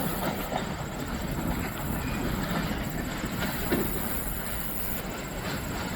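A BNSF and Union Pacific freight train rolls past with steady clickety-clack of wheels on rail and a continuous rumbling roar, loud and close, with no talk.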